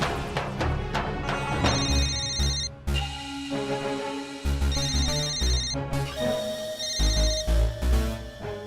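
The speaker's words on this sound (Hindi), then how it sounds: "केकर फोन रहल, काहे काट दे रहा?" A musical phone ringtone plays loudly, a melodic tune repeating in bright phrases over a steady beat, with no voices.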